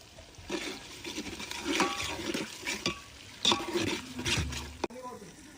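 Onions frying in a pan for a chicken curry tempering, with intermittent scraping and stirring strokes and soft sizzle at moderate level, broken by brief clatters of utensils.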